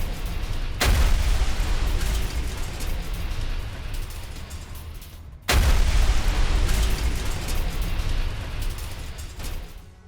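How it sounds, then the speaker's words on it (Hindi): Russian howitzer fire hitting a Ukrainian weapons depot: two heavy booms several seconds apart, each followed by a long, loud rumbling roar that fills the gap between them. "रूस के हॉवित्जर ब्रिगेड का यह बारूदी एक्शन है।"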